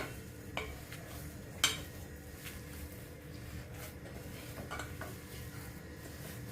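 Kothambir vadi mixture stirred and mixed in a bowl, quiet scraping and a few sharp utensil clinks at irregular moments, fairly faint, with no talk.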